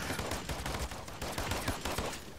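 Gunfire in the Paladins video game crackles as dense, continuous rapid shots throughout, loud and close with no pauses.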